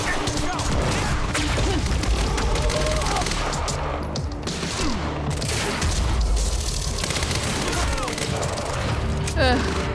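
A Quantum Break firefight fills the scene with rapid automatic gunfire and heavy booms from a grenade blast, dense and loud throughout, with voices talking over the shooting.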